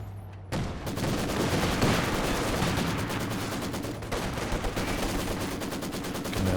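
Rapid machine gun fire from LMG-upgraded squads in the World War II strategy game Company of Heroes 2 sounds as dense, continuous rattling bursts that start suddenly and carry on at steady loudness, with no talk.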